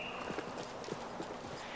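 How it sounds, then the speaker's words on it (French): An agitated stallion in a stable: hooves clip-clop and stomp in an uneven rhythm, close by and fairly loud, with little or no clear whinny coming through. "Un de vos chevaux s'est énervé, on dirait."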